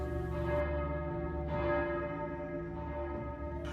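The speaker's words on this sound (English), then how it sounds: "after the bells of the church had struck midnight" Church bells ringing at midnight, a sustained resonant metallic tone with repeated strikes blending into a long ringing decay, moderately distant.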